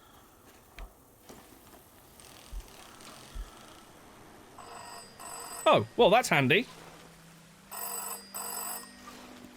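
An old telephone rings inside a video game, a warbling electronic ring in a few bursts, then a lower repeated buzzing tone, with someone talking briefly over it and some faint ticking earlier.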